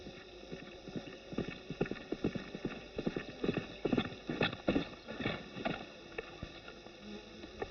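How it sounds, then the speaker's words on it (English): Horse hooves clip-clop in a steady, uneven walking rhythm on a hard surface, fairly close and clear, with no speech over them. "That's not the most beautiful horse I've ever seen."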